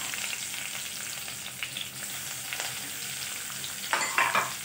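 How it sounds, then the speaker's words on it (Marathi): Finely chopped onions fry in a pan with cumin and curry leaves, giving a steady, loud sizzle with a few stirring scrapes and a brief louder crackle near the end. "त्यानंतर बारीक चिरून घेतलेले कांदे टाकायचे।"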